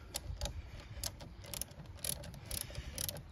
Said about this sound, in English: then we're going to tighten our bolts down